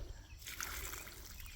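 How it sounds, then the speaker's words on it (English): Water poured onto peat-moss potting soil for a backyard fruit tree, a soft steady trickle and patter starting abruptly and continuing evenly, close and fairly quiet. "We're going to add a little bit of water."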